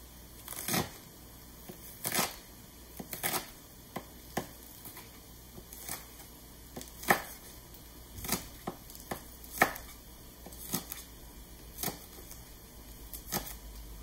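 Green onions being chopped with a dull knife on a board, roughly a dozen irregular thuds spaced about a second apart over a faint background hum.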